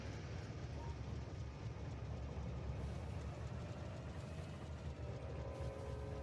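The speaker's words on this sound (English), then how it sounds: "It figures there'd be a train leaving the station." A train pulls out of a station in the video game Factorio, a steady low rumbling engine drone with faint mechanical hum, continuous and fairly quiet throughout, without talk.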